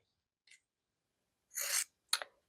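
Fabric scissors snipping two corners off a pieced quilt block: a faint tiny click, then a longer crisp slicing cut and a second short snip, close and isolated in a quiet room.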